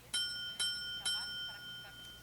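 A small hand bell in a Breaking Bad episode rings three times in quick, evenly spaced strikes, each bright ding decaying briefly before a fainter ring closes the short stretch.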